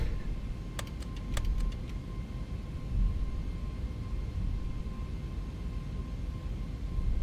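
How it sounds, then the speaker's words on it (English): Boeing 737-800 engines idle in X-Plane 11 flight simulator, a steady low rumble with a faint whine, joined by a few short clicks near the start and no talking. "And just listen to the engines."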